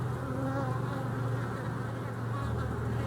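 Honey bees hum in a dense, steady drone inside a hive, close and continuous throughout.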